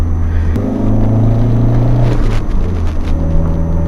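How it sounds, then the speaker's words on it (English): Steady rumbling of an old, squeaky Nissan 240SX engine driving on back roads, loud and close, with a low drone that shifts pitch slightly as it moves along. "I know my car's kind of old and squeaky"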